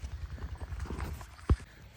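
A mare's hooves thud rhythmically on the ground as she jumps a ditch. The footfalls are close and steady, with one sharp heavy impact near the middle, and faint talk lies underneath.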